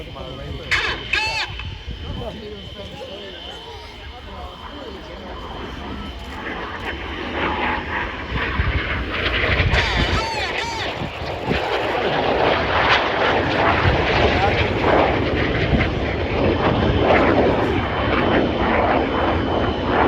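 RAF Red Arrows jets fly the Crossbow manoeuvre at a Danish air show in 2022, their distant roar building from a low rumble into a loud, sustained rush that swells through the second half.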